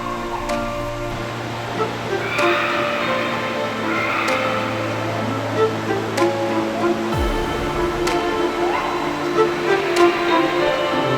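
A waterfall pours into a sunlit gorge in the Garo Hills of Meghalaya, a continuous broad rushing roar that holds steady and loud with no voices over it.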